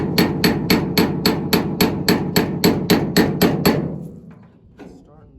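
Steady hammer blows strike sheet metal to work out a corner dent on a truck body, about a dozen evenly spaced ringing hits before the blows stop and one last lighter tap follows.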